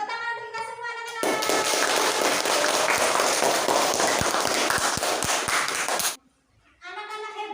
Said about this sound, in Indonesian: Beri tepuk tangan untuk kita semua anak-anak.